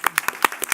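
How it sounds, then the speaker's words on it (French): A handful of people clapping briefly in a room, about seven sharp, uneven claps in quick succession, close and moderately loud. "Bravo, applaudissez-vous."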